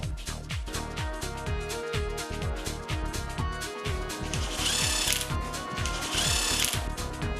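Power tool tightening bolts on a Pulsar NS 200 engine during reassembly, repeated short whirring bursts with brief pauses between them, close and fairly loud, with no voices.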